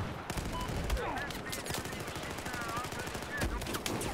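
Rapid automatic gunfire bursts in Battlefield 4 during an open beta multiplayer match, dense repeated shots with game effects filling the whole span, no speech.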